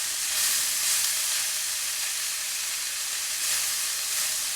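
Food sizzles and fries steadily in a Made In carbon steel wok, a bright, even hiss holding close and loud throughout with slight swells, no voices.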